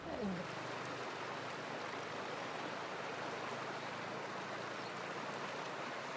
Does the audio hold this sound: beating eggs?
no